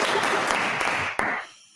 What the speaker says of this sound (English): I got to give you a round of applause for that